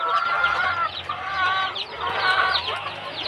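Farm chickens clucking nearby, a steady overlapping chorus of calls and cackles, loud and close with no talk.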